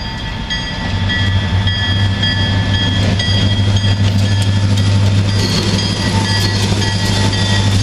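A freight train hauled by three CP SD40-2 diesel locomotives rolls past at close range, a loud steady engine rumble with rail clatter that holds throughout without letting up.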